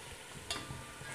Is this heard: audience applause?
no